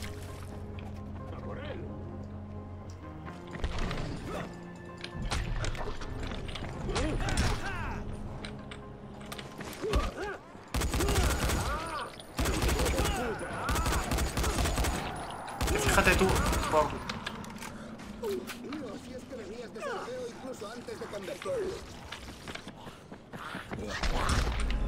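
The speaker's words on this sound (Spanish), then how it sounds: "Le voy a disparar a un zombie." Gunfire aimed at a zombie in the Dying Light video game: several loud bursts of shots between about 10 and 17 seconds, over creaking, rumbling game sounds, with someone speaking Spanish at several points.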